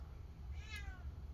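A house cat gives a single rising-and-falling meow, close and clear, indoors during a Dell Inspiron 15 5570 laptop repair, over a low steady background hum.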